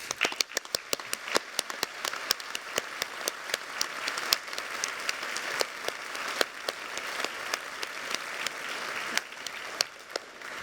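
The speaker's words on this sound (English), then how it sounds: "Let's have a round of applause for that." Graduation-ceremony audience at a university hall applauding, a steady patter of many hands clapping throughout, with sharper individual claps standing out and little talk.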